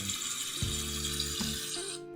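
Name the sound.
washing spinach in sink with water and vinegar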